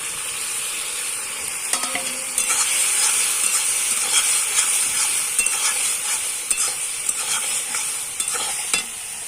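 Spices fry in hot oil in a pan while being stirred, a steady bright sizzle and hiss running throughout with occasional scraping clicks of the spoon against the pan.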